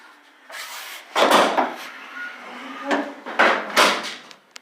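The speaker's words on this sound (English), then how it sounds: "See if I can tilt this front end down." The tilt front end of a 1955 Chevy gasser is lowered, with a series of close metallic clunks, creaks and knocks over a few seconds as the body panel swings down and settles.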